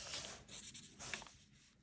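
A pen scratches across paper while someone handwrites a math expression with a square root, producing short faint strokes in quick bursts, close up and quiet with no talk.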